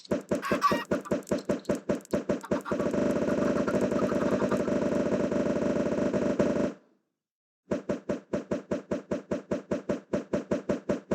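Rapid repeated clicking pulses from a modded Minecraft world crowded with baby chickens, a steady rattling stream that pauses briefly before resuming in regular bursts, loud and close with no talking.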